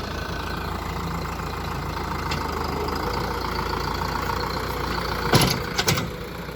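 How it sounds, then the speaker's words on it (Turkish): A Deutz-Fahr 4090E tractor engine idles steadily with a low, rumbling chug, close by, followed by a few sharp knocks near the end. "Traktör"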